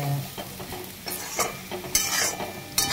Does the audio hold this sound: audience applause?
no